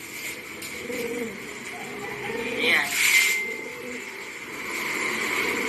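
Racing pigeons coo softly nearby in low, throaty murmurs while a person speaks briefly over them.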